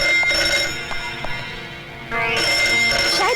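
A telephone rings with a bright, repeating electronic tone over a sustained musical background, loud and close.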